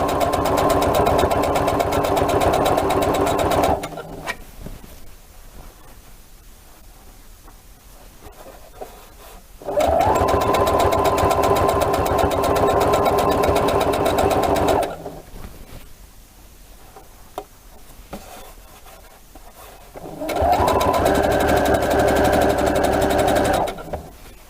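A sewing machine hems a t-shirt in three long bursts of fast, even stitching chatter, close and loud, separated by quiet pauses with faint handling sounds.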